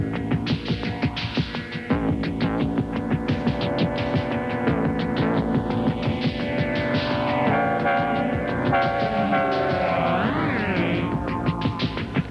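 A song plays as a music quiz clip, with steady synthesizer tones, a pulsing rhythm and rising and falling electronic sweeps heard alone and loud.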